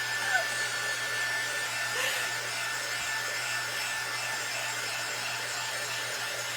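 Steady, continuous blowing whir of a hair dryer-style heat tool drying a Mod Podge painted canvas in a craft project, close and constant with faint rubbing and handling noises.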